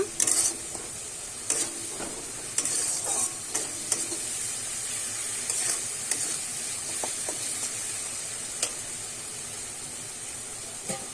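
Spice paste for a Bengali bhetki fish-bone chorchori being sautéed in a pan, a steady sizzle broken by repeated scraping stirs of a spatula, close and alone with no talk.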